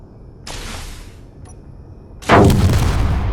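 A ship weapon fires in the Space Engineers video game, two booming cannon-like shots about two seconds apart, the second louder with a longer rumbling tail.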